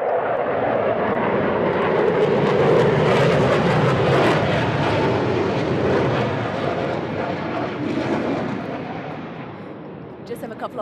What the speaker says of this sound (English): Just have a couple of planes here.